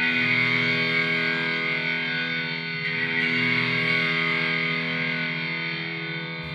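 Tambura drone routed through a bass head amp simulator, producing a thick, distorted, sustained tone with steady layered harmonics that holds continuously at high level throughout.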